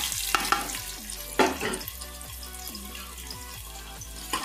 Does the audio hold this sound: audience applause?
no